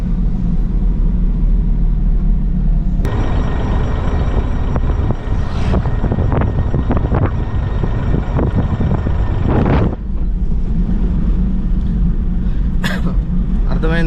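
A loaded truck rolls along the road with a steady, loud low rumble of tyres and engine throughout, and someone talks over the noise for much of the time.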